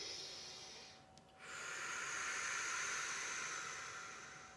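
During chair yoga a person breathes deeply and close up: a long airy exhale, a brief pause, then a long audible breath that swells and slowly fades.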